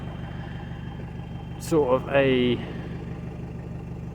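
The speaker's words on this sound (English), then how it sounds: "I didn't really enjoy having a loud car, especially a loud diesel. So this is absolutely perfect." A Ford Fiesta 1.6 TDCi diesel fitted with a Milltek turbo-back exhaust idles with a low, even, pulsing rumble beneath a brief spoken phrase.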